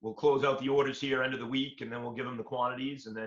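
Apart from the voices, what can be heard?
No everyday noises stand out.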